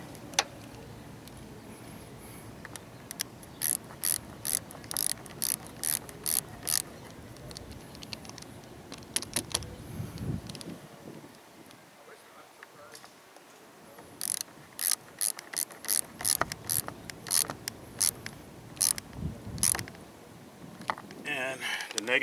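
A ratchet tightens a battery cable clamp on a 2000-2005 Mercury Sable or Ford Taurus, giving repeated bursts of quick clicking strokes, close and clear, separated by pauses.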